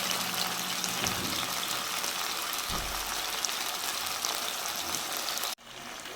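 Squid pieces shallow frying in a pan give a steady, dense sizzle of hot oil throughout, with a brief low clatter near the middle and a sudden dip just before the end.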